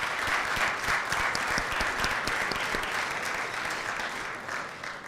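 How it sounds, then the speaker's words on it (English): Audience at an evening community event on homelessness in Ypsilanti, Michigan gives a warm round of applause to the agencies and speakers, dense clapping that holds steady and tapers slightly toward the end. "let's give a big round of applause for the agencies here and the speakers here tonight"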